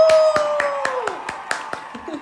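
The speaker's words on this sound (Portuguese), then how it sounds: "Palmas pra ela," A handful of people clap at a Portuguese-language talk show as a guest is introduced, sharp separate claps in a loose rhythm over a sustained tonal background, with a voice speaking along.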